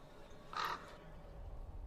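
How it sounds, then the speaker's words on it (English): A single crow caw from the video game Skyrim, one short harsh call in the middle of a quiet background with no talk. "Now we got our crow."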